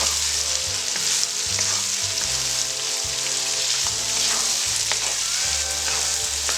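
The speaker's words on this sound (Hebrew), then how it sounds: "אנחנו מטגנים הכל בתוך הסיר דקות ספורות" Ingredients for sirkaniz plov frying in a pot, a loud dense sizzle continuing throughout, with steady stirring and a low rhythmic pulsing beneath, no talking.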